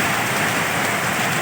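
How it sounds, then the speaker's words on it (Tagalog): Heavy monsoon rain pours down steadily during a southwest-monsoon storm, a loud, dense, unbroken hiss of drops close by with no pauses. "Malakas ang ulan."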